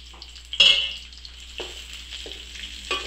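Garlic and onion sauté in a pan for a milkfish dish, a soft sizzle under a loud metal clank followed by a few scattered spatula scrapes against the pan, near and without speech.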